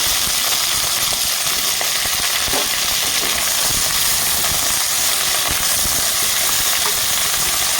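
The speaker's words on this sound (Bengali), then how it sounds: "হাই ফ্লেমে আমি তেলটাকে ভেজে নেব" Okra fries in oil over a high flame with a loud, steady sizzle and hiss that runs unbroken throughout, close up and with no talking.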